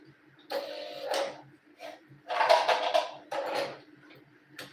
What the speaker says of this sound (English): So We're just gonna go ahead and stitch it up by 1/2 inch.